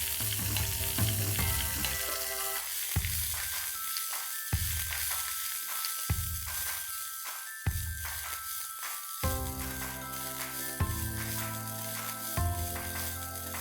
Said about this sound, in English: I'm going to fry this methi nice and crisp in that